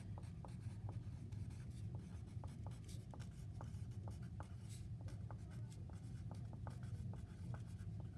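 A pen writes on paper during a maths lesson, giving faint, rhythmic scratching strokes over a steady low background hum, with no speech.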